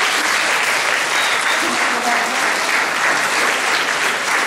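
Audience applause after a theatre performance, a dense, steady clapping of a whole crowd, loud and close, holding evenly without a break.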